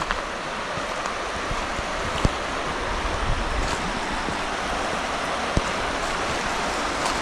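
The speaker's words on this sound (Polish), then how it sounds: "Ładnie rzeka szumi." The Narew river rushes and hisses steadily near a rapid, a dense, continuous wash of water noise with an occasional faint tick, heard alone without voices.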